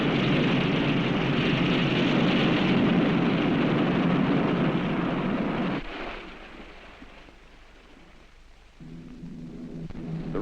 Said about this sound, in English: Air Force Colonel John Stapp volunteered to ride a rocket sled to see if the human body could survive the high speeds